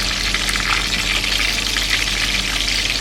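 Fried larb, a spicy Isan minced-meat dish, crackles in hot oil with a continuous close sizzle and hiss, broken now and then by faint stirring.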